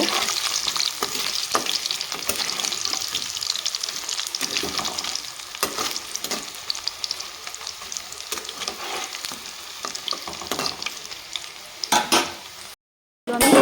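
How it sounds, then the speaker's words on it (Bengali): Steady loud sizzling of cauliflower frying in hot oil, with intermittent scraping and stirring in the pan throughout. "উল্টে পাল্টে দিব তো দেখো কত সুন্দরভাবে ভাজা হয়ে গেছে"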